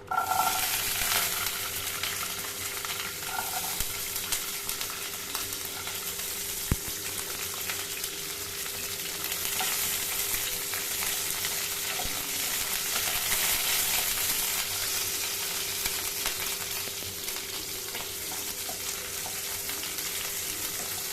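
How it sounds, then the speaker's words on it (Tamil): Onion and garlic frying in hot oil make a loud, continuous crackling sizzle that holds steady for the whole stretch, with one brief knock early on. "எண்ணெய் காஞ்சிடுச்சு. இப்போது இது வந்து வெங்காயம் பூண்டு போட்டுக்கலாம்"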